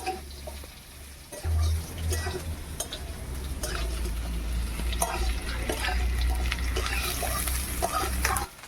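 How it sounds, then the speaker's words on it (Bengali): Carrots added to partly fried potatoes in a pan, stirred and scraped repeatedly while the oil sizzles loudly and steadily throughout. "গাজরটা দিয়ে বেশ কিছুক্ষণ নেড়ে নেবো"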